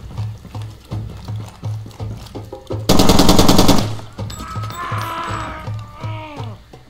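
Gunfire in the video game Far Cry 2, a loud sustained burst of rapid automatic shots lasting about a second, set among rhythmic thudding footsteps and other game sounds, no talking.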